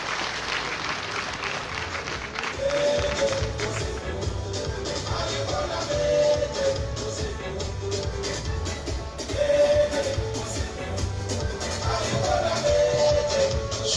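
Large crowd applauding at a PDCI-RDA party congress, sustained clapping and cheering filling the hall steadily, with a rhythmic low musical beat underneath and brief swells in volume.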